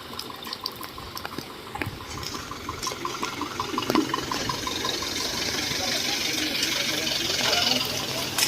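Flood water runs through a village street in Itadra, Gujarat, during heavy rain, a constant rushing, gurgling flow that grows slightly louder midway.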